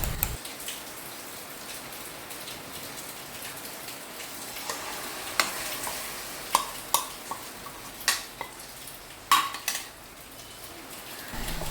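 Coconut sweet mixture heating in a pan, a soft low crackle underneath with a series of sharp spoon taps and scrapes against the metal pan, no voices.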